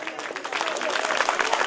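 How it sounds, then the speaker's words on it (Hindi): Audience applause at a public gathering, a short burst of thin, scattered clapping rising slightly in density, heard alone without speech. "तुम लोग बहुत कमजोर ताली बजाना।"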